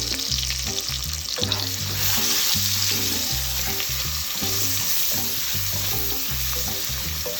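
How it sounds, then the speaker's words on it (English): Onion sautéing in a pan with seasoning salt, a steady loud sizzle and crackle running throughout alongside rhythmic stirring and scraping, close up with no talking. "Now this is sautéing."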